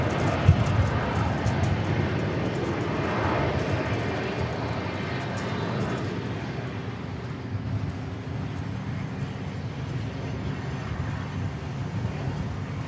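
A Southwest Airlines airplane at Dallas Love Field gives off a steady broadband roar that holds through the whole stretch and slowly fades a little, with no voices standing out over it.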